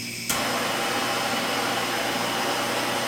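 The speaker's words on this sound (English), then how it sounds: "Once I light this tip, it's gonna stay lit until I either blow it out or relieve the gas pressure" A Blueflame MAPP gas substitute aerosol torch lights with a quick pop, then its flame burns in a loud, steady, close-up roaring hiss that holds to the end.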